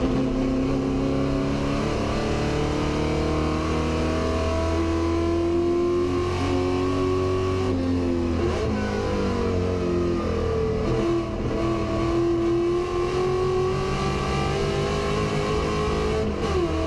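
A Rover racing car drives at speed at the Goodwood Members Meeting, its engine droning loudly and steadily with rising and falling pitch through gear changes, close and continuous throughout.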